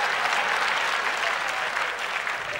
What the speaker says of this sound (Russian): Это не дождь, аплодисменты!